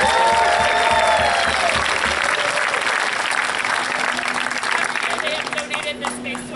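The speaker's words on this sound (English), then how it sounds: "Please give them a big round of applause." Outdoor audience applause in a park at a Star Wars-themed event, dense steady clapping filling the space with a few voices and whoops mixed in, fading slightly toward the end.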